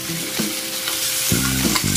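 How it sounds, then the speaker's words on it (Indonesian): Pressure-cooked chicken feet stirred into sizzling sautéed spice paste in a pan, a constant loud frying crackle with scraping stirring strokes and rhythmic utensil knocks, close and with no talking. "masukkan cekernya yang tadi kita presto. Aduk-aduk dulu sampai tercampur rata."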